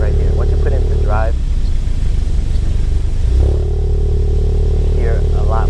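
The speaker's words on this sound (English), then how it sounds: "you hear a lot more of a deeper burble or rumble" A Volkswagen MK7 Golf R in race mode, shifted into drive, gives off a deep, steady engine rumble close by, with a voice speaking over it near the start and again near the end.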